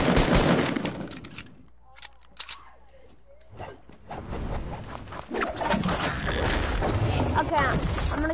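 Gunfire in a PS4 video game: a loud burst of heavy automatic fire opens, drops into a quieter gap with a few isolated shots, then swells back into dense, sustained shooting.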